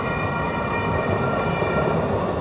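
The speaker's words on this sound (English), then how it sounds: "there is the train." A short train rolls through downtown Sacramento, a loud continuous rumble and rail noise close by with no talk, steady throughout.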